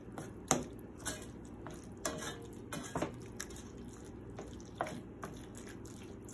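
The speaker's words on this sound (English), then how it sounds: "So I keep stirring and stirring and starting to get the color." Ground tofu stirred in a pan with a utensil, giving a run of irregular scraping clicks and taps against the metal over a low steady background, fairly quiet and near.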